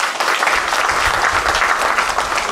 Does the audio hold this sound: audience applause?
yes